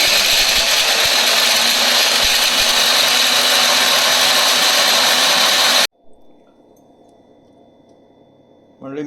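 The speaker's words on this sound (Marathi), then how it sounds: "मिरच्या, लसूण आणि ओवा, जिरे, गूळ आणि हे सगळं मिक्सरमध्ये फिरवून घ्यायचं आहे." A mixer grinder whirs loudly and steadily at close range for several seconds while blending chillies, garlic, ajwain, cumin and jaggery, then stops abruptly, leaving faint background sound.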